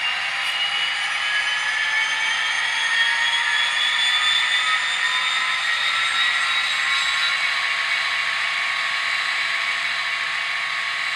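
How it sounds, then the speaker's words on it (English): A Bowser HO scale GMD SD40-2 model locomotive runs at full throttle while held in place, giving a steady high-pitched motor whine with layered tonal hums that stays loud and even throughout, with no talking. "Now we're at 126 speed steps,"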